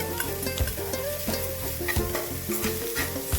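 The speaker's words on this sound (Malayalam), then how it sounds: "സവാള വഴറ്റാൻ വേണ്ടി കുറച്ച് ഉപ്പ് നമുക്ക് അരിയാതെ" Onions sautéing in a pan for a Kerala-style shakshouka, a continuous close sizzle broken by occasional stirring scrapes and clinks, with no talk.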